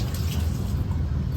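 Steady broadband rush of water running from a faucet at a restaurant's hand-washing station, continuous and fairly close, with no talking over it.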